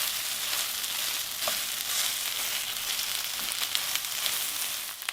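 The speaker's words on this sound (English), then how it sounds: "you're going to add that to your pan, and you're going to cook for another 6 to 8 minutes" Chorizo frying in a pan, a continuous bright sizzle and crackle with scattered pops, close and steady throughout with no talking.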